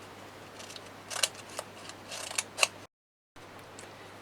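Scissors snip through paper around a cardboard toilet paper roll in a run of close, crisp cuts, several louder than others, then a short gap of silence before faint handling resumes.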